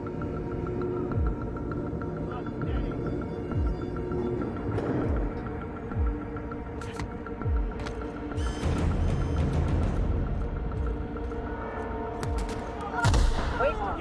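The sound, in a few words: gunfire in the video game The Outer Worlds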